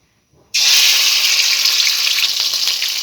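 Ground spice paste of onion, dried chilli and cumin hits hot oil for a hilsa fish curry, bursting into a loud, steady sizzle after a brief quiet moment and crackling on without a break.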